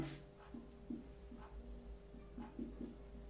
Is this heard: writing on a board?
yes